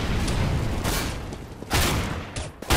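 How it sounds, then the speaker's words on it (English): A grenade blasts in CS:GO, a loud booming roar over a constant gunfire din, with a second sharp burst near the end, close and harsh. "Grenade out!"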